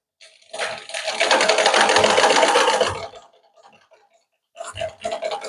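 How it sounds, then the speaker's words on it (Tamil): Sewing machine stitching a blouse seam, a loud steady whirring run of about three seconds, then a short quieter burst after a pause, with no voices. "இப்போ நான் அரைஞ்சி பிடிச்சி தைச்சி கொண்டு வரேன்"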